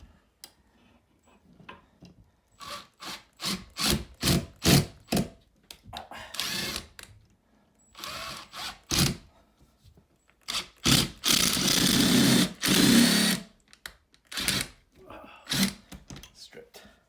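A power drill drives a screw into a wall stud while installing a floating shelf, its bit slipping and stripping; short buzzing whirs come in repeated bursts, louder toward the end, with people talking in between.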